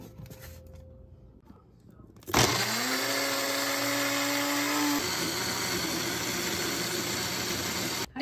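An electric kitchen grinder starts abruptly after a quiet pause and runs loud and steady, its motor whine dropping in pitch as it grinds vegetables for a vegetarian butter-chicken-style gravy.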